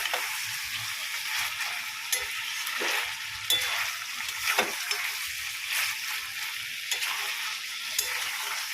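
Garlic frying in a pan while being stirred, a steady close sizzle broken by repeated scraping and clattering strokes of the spoon.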